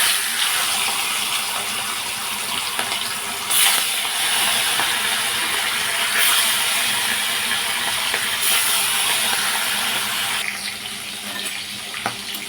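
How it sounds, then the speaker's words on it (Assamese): Rohu fish, rubbed with turmeric and salt, frying in hot oil in a wok, giving a steady loud hiss and sizzle that runs unbroken throughout, with a few brief sharper spatters. "মাছখিনি ফ্ৰাই কৰিম।"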